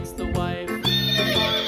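A horse on a farm lets out a clear, wavering whinny that rises and falls across the whole moment, close and distinct.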